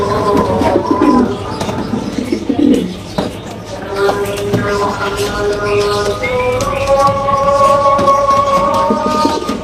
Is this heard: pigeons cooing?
yes